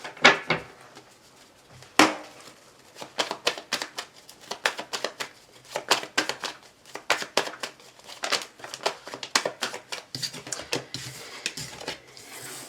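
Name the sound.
shuffling tarot cards for a reading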